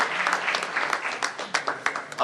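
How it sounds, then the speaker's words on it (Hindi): Loud, sustained clapping from an audience at a government job-fair ceremony where a Lieutenant Governor hands out appointment letters, a dense continuous patter of many hands with a few sharper bursts near the end. "जोरदार तालियों।"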